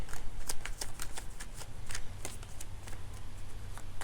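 Tarot cards are shuffled rapidly and continuously, a dense riffling patter of quick papery snaps close up.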